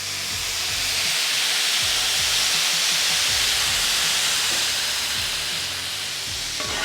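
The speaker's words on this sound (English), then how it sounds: "And the water will help steam all the extra bits off of there." Water hisses and steams steadily on a hot Ninja FlexFlame griddle, a continuous broadband sizzle that fills the whole stretch with faint low thumps underneath.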